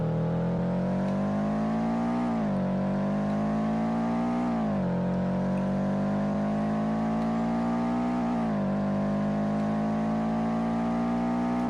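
A Subaru's engine drones steadily in a Roblox driving game on a highway, a loud continuous tone that rises gradually with small dips and returns as the pitch resets, with no voices.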